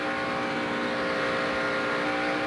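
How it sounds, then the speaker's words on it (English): Jeff Gordon's race car in the 2002 MBNA All-American Heroes 400 NASCAR race, engine held at high, steady throttle coming off the turn: a loud, continuous droning roar with no break and no talk. "See, you hear that throttle."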